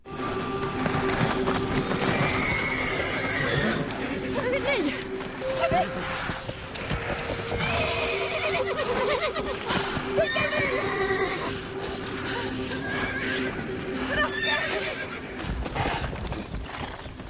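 Horses whinny and neigh repeatedly over steady galloping hoofbeats in a fantasy film scene as riders head into mist, loud and continuous with layered calls throughout.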